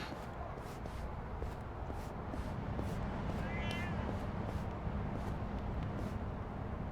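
Cat meowing inside the video game Lost Judgment, one short high call rising over a steady, dense game background of ambient noise and soft footstep-like shuffles.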